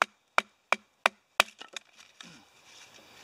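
Dry wood split with a Schrade SCHF52 knife driven by a mallet: five sharp, evenly spaced knocks ring out, then a quick run of cracking and splintering settles into faint crackle.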